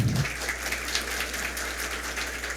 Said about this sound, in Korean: 조합장님께 다시 한번 큰 박수 부탁드리겠습니다